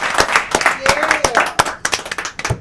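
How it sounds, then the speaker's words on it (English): Clapping from a small group at a Christmas special show, a few loose, uneven claps ringing out close by, with voices talking and a brief whistle-like tone mixed in. "Everyone give him a round of applause."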